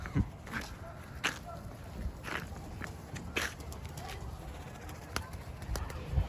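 Pigeons coo softly in the background in a pigeon loft while footsteps and light shuffling move about nearby.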